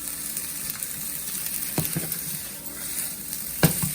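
Curry noodles sizzle steadily in a hot pan while being stirred, with a continuous frying hiss and occasional sharp scrapes and clinks of the utensil against the pan.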